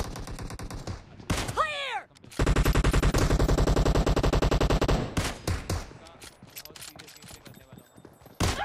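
Gunfire in the mobile battle-royale game PUBG Mobile: a long, rapid automatic burst of loud, evenly spaced shots, preceded and followed by scattered single shots and game sounds.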